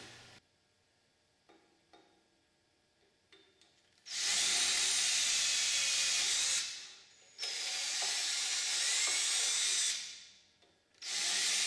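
A power drill whirs loudly in three long bursts while drilling bolt holes in an ultralight aircraft build, each spinning up and winding down, with brief quiet gaps and small clicks between.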